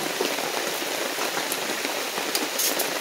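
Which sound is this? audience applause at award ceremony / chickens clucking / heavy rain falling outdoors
heavy rain falling outdoors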